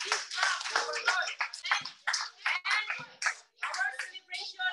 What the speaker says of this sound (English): Let us give a big clap to our Lord.